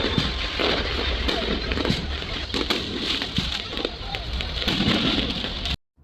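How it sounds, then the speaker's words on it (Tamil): Firecrackers burst continuously during a Deepavali street celebration in Little India, Malaysia, a dense crackling barrage of sharp pops near and far, with a voice talking over it before it cuts off abruptly. "இந்த ஏரியாவில் ஃபுல்லாக வந்து பட்டாசு வெடிச்சிட்டே தான் இருப்பாங்க"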